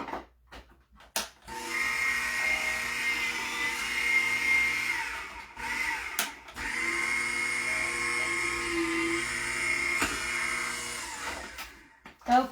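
Electric paper-crafting die-cutting machine running with layered paper fed through, a steady close whirring hum that stops and restarts with brief clicks and handling noises in the gaps.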